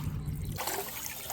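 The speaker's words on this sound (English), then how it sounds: "Here's where the water comes out. I can hear it right over here somewhere." Water trickles out near the shore of Lewiston Lake, California. It is a soft, steady dribbling wash, faint and continuous, with no voices.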